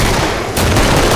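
Dense, continuous gunfire from the video game Killing Floor, loud and close, with rapid overlapping shots that grow heavier and brighter about halfway through.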